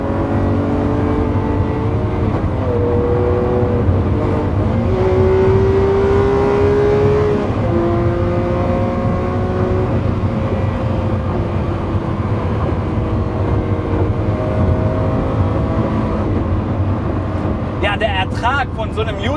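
A Lamborghini Countach cruises on the German Autobahn, its engine droning steadily from inside the cabin with shifting gear tones and someone talking over it throughout.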